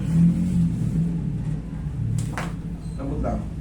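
A motorcycle engine runs with a steady low rumble throughout, swelling slightly as if revved, while people talk nearby over it.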